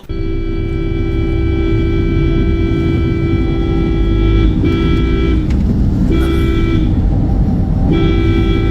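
Loud, sustained vehicle horns blare almost continuously over heavy road noise on the Kayamkulam–Punalur road, with a few brief gaps between blasts.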